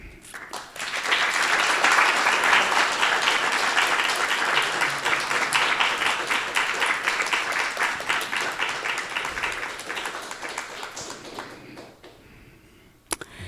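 An audience applauds after a spiritual talk, a dense, sustained burst of many hands clapping that swells quickly, holds steady for several seconds, then gradually thins and fades out.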